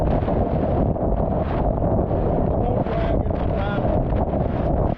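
Strong wind roars steadily across the microphone throughout on a Liquidlogic Powerslide 75 kayak, a loud, continuous buffeting rush with no break.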